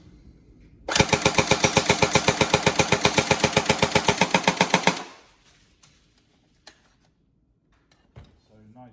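A Tokyo Marui AA12 electric airsoft shotgun with an upgraded spring fires a loud, close, rapid full-auto burst of about four seconds, its mechanism cycling in an even rhythm before stopping abruptly, followed by faint clicks and handling noises.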